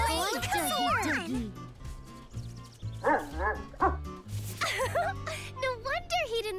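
A cartoon dog barking and yipping in a children's animated episode, several bouncy, expressive barks in quick bursts with short pauses between them, mixed with background music.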